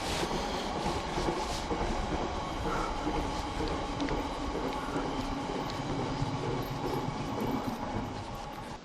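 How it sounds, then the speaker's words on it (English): A train rumbles past nearby, its steady rolling roar and rattling wheels filling the whole stretch at a constant loudness. "there's a train going past"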